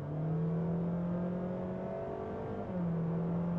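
A 2025 Honda HR-V e:HEV hybrid engine revs under full throttle, holding a steady, droning high-rpm tone with a slight pitch dip and recovery near the end, heard from inside the car.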